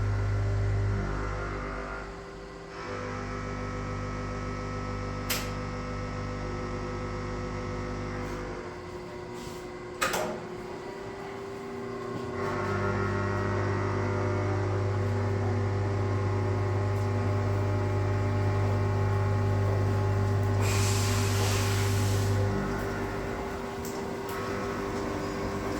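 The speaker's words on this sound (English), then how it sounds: "I'm going to turn the machine on, and then I'm going to run it at a high speed just to unwind that roll" A coreless winding machine with a COR-LOK air shaft runs at high speed, unwinding a roll with a continuous motor drone and hum that rises in pitch and strength partway through, ending with a brief hiss.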